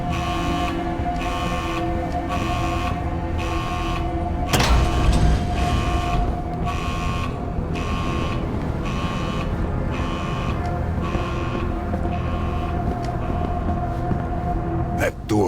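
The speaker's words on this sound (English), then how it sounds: "Some kind of alarm." An alarm in the Edge of Sanity video game, a loud regular beeping tone pulsing about twice a second over a low steady hum, broken midway by a brief heavier thud.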